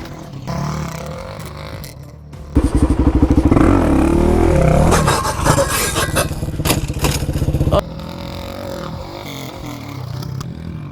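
A 2013 Suzuki DRZ motorcycle engine starts up loud and close, then runs with a rough, clattering idle and some revving for several seconds before dropping back to a quieter background.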